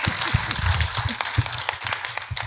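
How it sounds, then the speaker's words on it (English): An audience at an education conference symposium applauds, a continuous patter of clapping mixed with low thumps, fairly loud and sustained for a couple of seconds. "Give him a round of applause."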